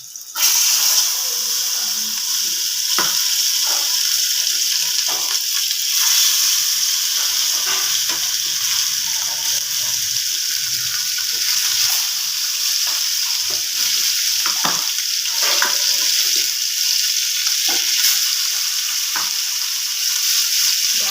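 Pieces of bhetki fish, salted and rubbed with turmeric, fry in hot oil in a pan, giving a loud, continuous sizzle with a few small pops and crackles throughout.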